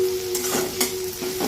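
Chopped onions fry in oil and ghee in a pan for an egg and potato biryani, with a steady close sizzle under a thin constant tone and several scraping stirs of a spoon against the pan.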